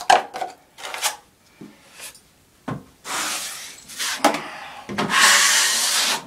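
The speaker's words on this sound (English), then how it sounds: "What I'm doing is really smoothing out the outside edges so we don't have a big lump" A drywall knife scrapes and smooths a final coat of joint compound in a series of close, rasping strokes of varying length, with the longest, broadest passes near the end.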